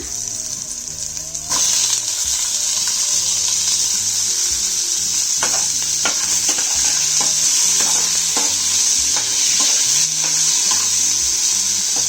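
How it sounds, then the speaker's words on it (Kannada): Onion and tomato sizzle in a hot pan for a chicken dish, a steady loud frying hiss broken by repeated scraping and clinking of a spoon stirring the mixture. "ಸ್ವಲ್ಪ ಟೊಮೊಟೊ ಸ್ವಲ್ಪ ಮೆತ್ತಗಾಗೋರಿಗೆ ಸ್ವಲ್ಪ ರೋಸ್ಟ್ ಮಾಡ್ಕೊಳ್ಳೋಣ"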